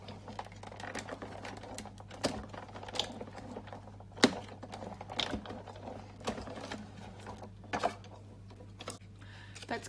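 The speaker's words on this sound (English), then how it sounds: "I'm going to pop one of the cutting pads on top, and I'm just going to run that through a couple of times" A die with a precision plate and cutting pads being run through a die-cutting machine for card making, a steady low mechanical grinding with irregular clicks and clacks over about ten seconds.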